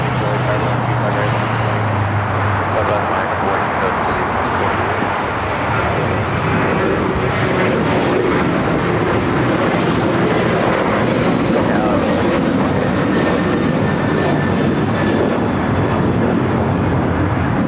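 Airliner taking off from runway 25 right at LAX, a broad sustained jet roar building and holding steadily throughout, fairly loud and continuous, with radio voices faintly underneath.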